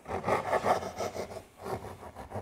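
A Japanese hand saw cutting a wooden board, heard as a quick run of rhythmic rasping strokes up close, with a brief pause midway before the strokes resume.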